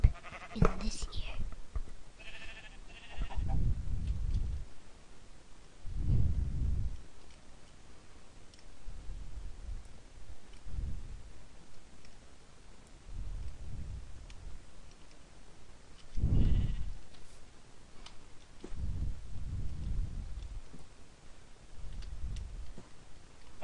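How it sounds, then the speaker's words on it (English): Sheep bleating in the Minecraft video game, several short bleats spaced irregularly over low background noise, with faint speech-like sounds among them. "I hear a chicken in this ear and a sheep in this ear."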